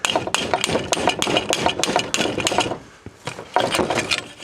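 A hammer bangs repeatedly on a stuck Zoom motorcycle fork leg to knock it apart. Sharp, loud metallic and woody knocks come in quick irregular bursts, with a short pause before another flurry of blows.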